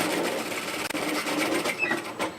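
A sewing machine stitching a seam on a hoodie, running in a quick steady whir with a brief pause, close and moderately quiet.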